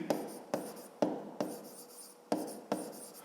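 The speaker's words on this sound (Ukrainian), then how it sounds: "Пишемо знак питання." A pen writes on paper in close, rhythmic strokes, with about seven sharp taps as each mark begins, each followed by a short scratching trail while a math answer is noted down.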